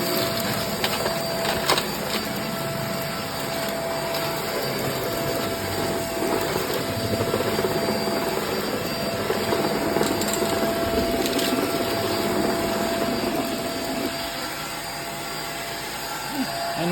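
A Hoover React or Dyson V7 cordless vacuum cleaner runs continuously at full power during a mess test, a dense, steady high-pitched whine with rattling debris pickup and a faint voice beneath.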